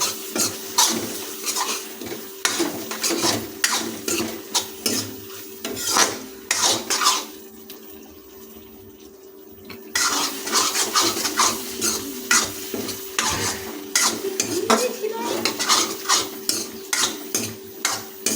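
Chicken skin coated in Kashmiri red chili powder is stirred in a pan for ghugni, with a close, steady run of scraping spatula strokes against the metal, a brief quieter pause midway, then more rhythmic scraping and light sizzling.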